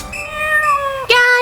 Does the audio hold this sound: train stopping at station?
no